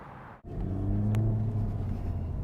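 A 2024 Honda Civic Type R or 2024 Acura Integra Type S drives along with a steady, loud low engine drone and road rumble, briefly dipping before settling into an even hum; no talking.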